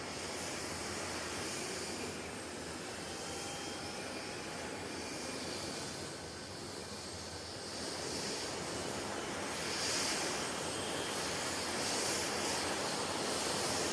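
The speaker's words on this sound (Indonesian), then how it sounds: "ada 7 helikopter ini disiapkan untuk para rombongan ini dari Prabowo dan Macron" A continuous roar of helicopter engines, steady and broadband as several helicopters idle or run nearby at Akmil Magelang, Indonesia, with no voices.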